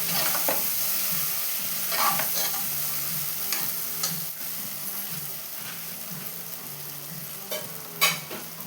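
Ginger garlic paste stirred and frying in a pan for a veg dum biryani, a steady close sizzle under the scrape and clatter of a spoon stirring repeatedly, with no talk.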